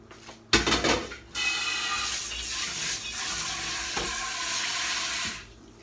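Steel cut oats are tipped into water to soak for an Instant Pot. A brief clattering pour comes first, then a sustained watery rushing and splashing that fades near the end.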